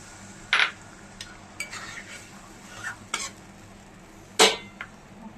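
A spoon scrapes and clinks against a pan as fried spice paste for fish curry is stirred, with water added; a low sizzle runs under scattered sharp metallic taps.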